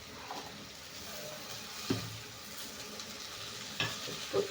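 Okra tipped into a hot pan and frying, a steady sizzle with a few stirring clinks and scrapes, close and fairly quiet.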